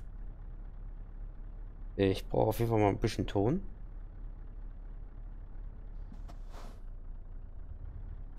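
Scania truck engine in Euro Truck Simulator idles as a steady low rumble throughout, with someone speaking briefly over it near the start.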